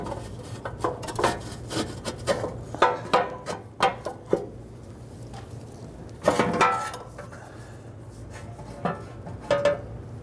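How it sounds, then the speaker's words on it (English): Metal oil pan for a 1999-2004 Jeep Grand Cherokee 4.7L V8 being fed up into place against its gasket, with close scraping, rubbing and light knocking in uneven bursts and a steady low hum beneath, no talking. "Go ahead and feed your oil pan up into place."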